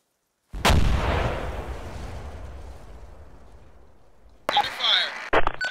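A single sudden, loud explosive detonation in a video game booms close by and rumbles away over several seconds, followed by radio-like voices talking over the tail.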